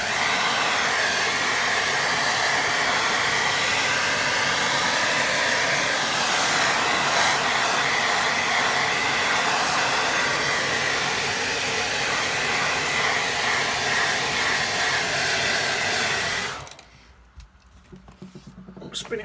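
A hair dryer blows steadily and loudly on a watercolour painting of a building, a constant rushing whir that runs unbroken for about sixteen seconds before cutting off abruptly, leaving only faint room sound.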